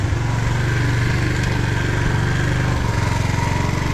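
Suzuki GZ 250 motorcycle with an aftermarket carburetor and small exhaust, its single-cylinder engine idling steadily and slightly high, close and loud throughout with an even, rapid chugging pulse.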